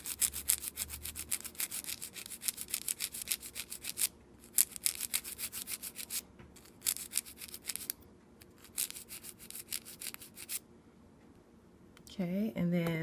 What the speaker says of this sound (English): continue filing to get the shape